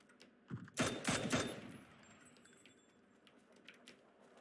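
Gunfire in PUBG sounds as a quick cluster of three or four sharp shots early on, fairly close, followed by faint distant pops and small metallic clinks over a quiet background.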